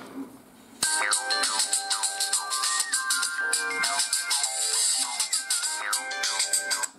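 The loudspeaker of a Nokia 5310 XpressMusic phone plays a loud, bright melodic tune, starting abruptly after a quiet moment and continuing with busy, rhythmic notes.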